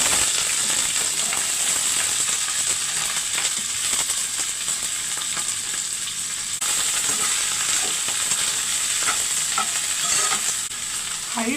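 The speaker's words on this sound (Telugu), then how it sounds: "హై ఫ్లేమ్ మీదనే రంగు మారే వరకు వేయించుకోవాలి." Okra pieces fry in about three tablespoons of hot oil over a high flame, stirred constantly, giving a loud, steady, unbroken sizzle with faint scraping throughout.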